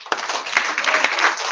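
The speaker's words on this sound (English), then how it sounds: "So give a round of applause for Richmond Hill" Brief burst of audience applause at a Gandhi statue unveiling ceremony at Tulsi Mandir, Richmond Hill, dense clapping from a crowd rising quickly and holding steady for a moment.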